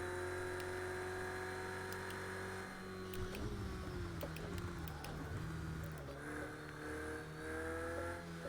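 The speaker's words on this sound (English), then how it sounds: "Trying to listen to the engine for a minute to get a feel for it." A race car engine in the video game Project Cars 2 hums steadily and loudly, its pitch dipping and shifting mid-clip as it revs and changes gear, with no voices over it.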